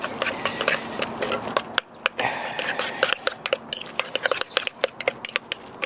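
Canned beets being mixed for homemade horseradish, with a spoon scraping and clinking against a bowl in quick, irregular close strokes, getting busier and sharper toward the end.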